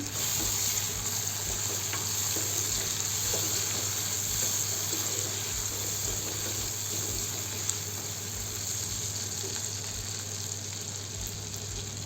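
Onions with crushed peanuts and tomatoes frying in a pan: a steady, close sizzle with faint rhythmic low knocks beneath it, and no talking.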